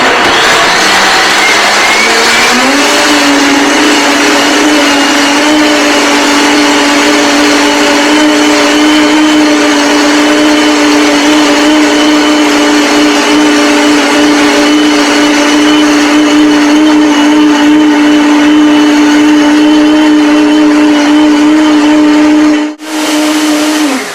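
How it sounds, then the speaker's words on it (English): A countertop blender runs at high speed for a juice or smoothie treatment, a loud, steady whine that rises as it spins up and then holds constant for about twenty seconds, close and alone before a brief cutoff near the end. "we do a high-speed grind for 2 minutes"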